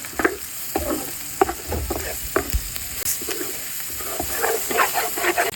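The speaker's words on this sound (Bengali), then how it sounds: "সুন্দর মতন নেড়ে নিচ্ছি" A spoon scrapes and clacks repeatedly through a sizzling pan of frying spice pastes and garam masala, irregular stirring strokes over a constant hiss of frying.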